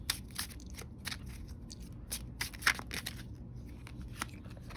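Close, fairly quiet riffles and flicks of tarot cards being shuffled, uneven bursts with short pauses between them, alone with no talking.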